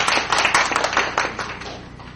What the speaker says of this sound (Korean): 다시 한번 큰 응원의 박수 부탁드리겠습니다